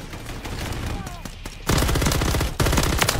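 Rapid automatic gunfire from Call of Duty MW3 bursts in loud, dense volleys in the second half, following a quieter stretch with faint voices and game sounds.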